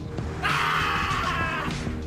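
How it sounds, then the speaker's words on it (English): A loud, sustained, strained bleat like a screaming sheep, about a second long, over a noisy busy background. "Somebody emailed me a video of a sheep screaming."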